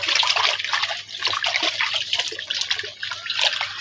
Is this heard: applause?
no